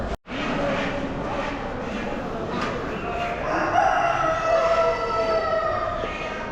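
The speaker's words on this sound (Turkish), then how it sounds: "Horozlarımızı çıkardık." Roosters crow at a busy animal market in Çorlu, with drawn-out calls rising over steady crowd and traffic noise; voices murmur in the background.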